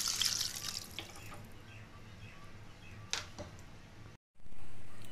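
Water is poured into a pot of soaked rice in a home kitchen, a bright splashing stream that starts strong, then trickles with a few drips before a brief cutoff and a renewed wash of sound.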